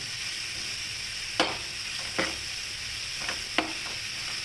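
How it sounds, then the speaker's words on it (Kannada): Onions frying in a pan: a steady, fairly soft sizzle runs throughout, broken by a few brief utensil scrapes or stirring taps, with no talking. "ಈರುಳ್ಳಿ ಇದೆಲ್ಲನೂ ಹೋಗೋವಷ್ಟು ಹಸಿ ವಾಸನೆ ಹೋಗೋಷ್ಟು ಅದನ್ನು ಫ್ರೈ ಮಾಡ್ತಾಯಿದ್ದೀನಿ"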